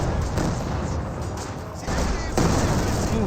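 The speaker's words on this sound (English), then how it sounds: "Starting to see some AT gun shots as well." Anti-tank gun shots and explosions in a Company of Heroes 2 battle between Wehrmacht and Soviet forces, several heavy booms and impacts over dense battle noise, with a commentator talking over it.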